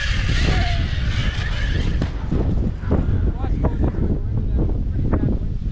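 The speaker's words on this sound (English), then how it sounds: "it is pretty windy" Steady wind roars and buffets across the microphone throughout at an outdoor RC car bash in Florida, with a vehicle engine rumbling underneath and faint voices mixed in.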